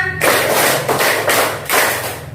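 Children in a primary school classroom clapping hands together in a counted sequence, with loud, roomy group claps spaced roughly every half second against a busy background.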